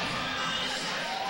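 A loud crowd roars and cheers without a break during a timeout at a women's college volleyball match, with young voices shouting in a dense, continuous wash of noise.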